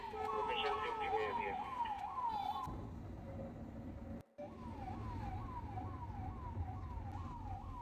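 A Hans Foundation ambulance sounds its siren while moving through traffic, a rapid rising-and-falling wail repeating steadily. It pauses briefly, then resumes over a constant engine and road hum.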